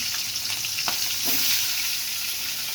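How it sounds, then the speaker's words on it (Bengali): Mustard oil heats in a wok (kadai), sizzling and crackling steadily and loudly throughout, with no talking. "সরষের তেল দিয়ে দিয়েছি কড়াইতে"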